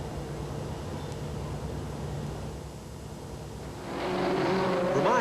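Late model race cars racing on an ACT oval track in 1987: a distant, muffled engine drone swells into a louder, nearer roar as the cars come past.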